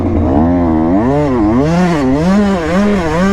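A truck engine revs hard and close at a lot, its pitch swinging up and down in repeated waves of throttle, loud and continuous with no talk.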